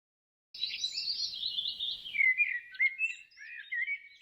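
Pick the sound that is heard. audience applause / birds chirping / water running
birds chirping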